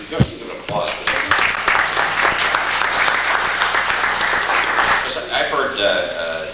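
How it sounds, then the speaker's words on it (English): An audience at a coalition gathering gives a sustained round of applause, dense clapping that holds steady for several seconds before thinning out. "Can I ask you, just give an applause for that."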